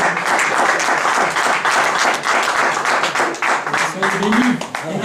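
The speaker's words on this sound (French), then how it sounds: "On invite l'homme de Dieu avec vos acclamations." A church congregation applauds to welcome a preacher, continuous dense clapping at close range with voices mixed in toward the end.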